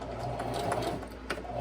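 A sewing machine runs in a quick continuous whir while stitching a fabric face mask, close and steady for under two seconds, with no voices.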